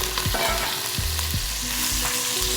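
Beef dropped into rendered pork fat while browning for Bolognese, a loud close sizzle with a few low thuds and clatters as pieces hit the pan, no voices over it.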